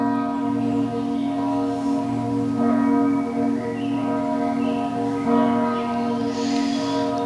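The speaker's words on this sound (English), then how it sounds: "Beautiful bells are singing for us." Church bells ring out in sustained, overlapping tones, a rich resonant chime that swells and fades at moderate distance with no voices.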